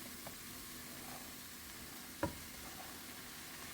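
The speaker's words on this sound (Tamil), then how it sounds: "இப்போ வந்து உதிரி உதிரியாக இருக்கிற ரைஸை இதுக்குள்ளே போடுவோம்." Cooked rice is tossed into a hot pan with sautéed chili paste for seafood nasi goreng, giving a faint steady sizzle with soft scraping stirs and one sharp clank of a utensil against the pan.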